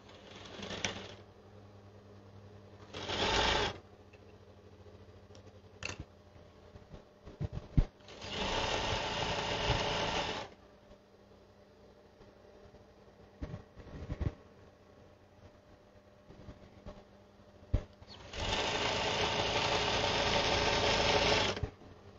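A sewing machine stitches fabric for a child's dress in several loud bursts of rapid mechanical whirring, separated by quieter pauses with small handling clicks, close by with no talking.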